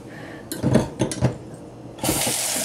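A kitchen knife is wetted with water while making a Hungarian layered potato and sausage casserole: a few metallic clinks and splashes, then a steady rush of running tap water near the end.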